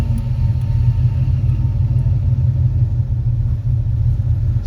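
Big block 454 V8 in a 1974 Chevy short bed 4x4 pickup running warm at a steady idle, a deep continuous rumble heard close up with no voices.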